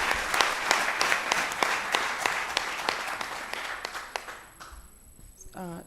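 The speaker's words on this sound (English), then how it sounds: "Please make the clap more resounding." An audience claps at a talk on spirituality and herbal medicine, a steady burst of hand claps with sharp individual strikes that thins out and fades toward the end.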